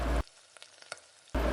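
Onions sautéing in oil for an egg poriyal, a soft sizzle broken by a few light stirring taps, close and quiet with no talking.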